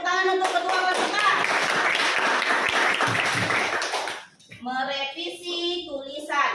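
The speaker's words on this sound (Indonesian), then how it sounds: "Tepuk tangan untuk ketua peserta." Classroom clapping for a student group leader during a teacher's lesson on revising writing, a dense burst of hands from many pupils that fades after about four seconds, then a teacher's voice carries on speaking.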